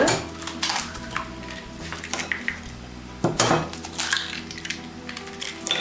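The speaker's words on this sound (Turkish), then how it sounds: "Önce yumurtaları şöyle parçalanana kadar çırpıyoruz." Two eggs being beaten in a bowl for a honey-banana dessert, a steady busy clatter of utensil against the bowl with sharp clinks and scraping, loud and close, with no talking.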